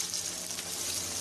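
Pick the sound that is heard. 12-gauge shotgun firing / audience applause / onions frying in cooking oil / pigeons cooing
onions frying in cooking oil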